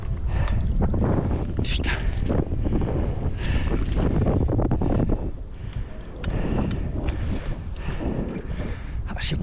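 Strong wind buffets the microphone continuously with heavy rumbling gusts, loud throughout, alongside the sounds of a boat on open water during carp fishing on Lake Chancelade.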